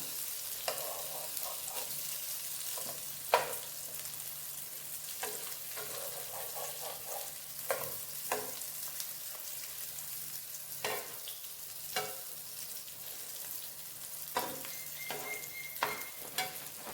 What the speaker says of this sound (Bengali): এইভাবে এগুলোকে একটু এপাট ওপাট করে মানে উল্টে পাল্টে এগুলোকে তোমার একটু ভেজে নিয়ে